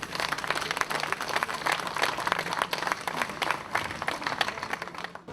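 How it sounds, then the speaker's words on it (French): An audience at a poetry evening in Sainte-Rose applauds steadily, a dense wash of clapping that holds for several seconds, moderately loud and fading slightly at the end. "Je voudrais que vous puissiez applaudir,"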